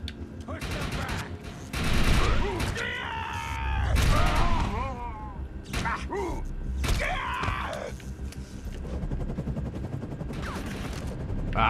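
Gunfire and grenade blasts in the shooter game Defiance 2050: scattered bursts of shots and thumping explosions mixed with game voices and groans, moderately loud and irregular, with someone talking over parts of it.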